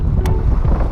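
Strong wind buffets a fishing boat out bass fishing, roaring loudly and steadily with low rumbling gusts across the whole second.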